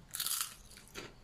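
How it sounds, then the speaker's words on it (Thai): Crispy oven-baked potato is bitten and chewed up close, giving a loud dry crunch followed by a second, shorter crunch about half a second later, with no voices. "อันนี้มันฝรั่ง มันฝรั่งนี่แบบกรอบมากเลย"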